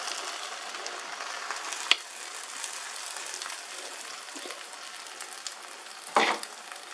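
An omelette mixture of egg and vegetables frying in a pan gives a steady close sizzle, broken by two sharper clinks or stirring scrapes.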